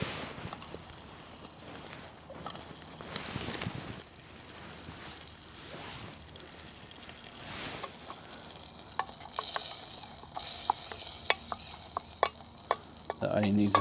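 Spices fry in a canteen cup over a camp stove for lamb rogan josh, a soft continuous sizzle with stirring scrapes and a few sharp metallic clicks toward the end.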